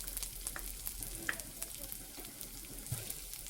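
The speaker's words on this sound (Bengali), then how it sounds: "রসুনটা দিয়ে দিলাম।" Chopped garlic fries in oil, a faint, steady sizzle broken by a few soft clicks of stirring, with no talking.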